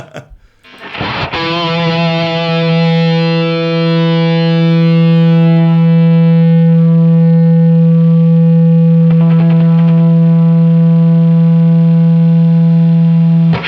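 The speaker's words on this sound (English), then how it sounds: "We get feedback. There it is." Loud, sustained guitar amplifier feedback through a BluGuitar Amp 1: a distorted tone swells in and settles into a steady, piercing howl that holds for over ten seconds, with a faint click or two.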